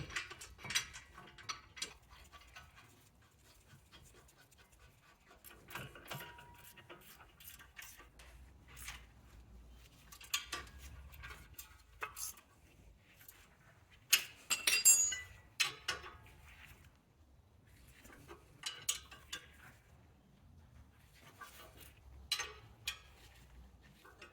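A ratchet on the front brake caliper bracket bolts of a Mazda CX-9 gives scattered faint clicks and metallic clinks, with pauses between bursts of tightening, close by and without talk.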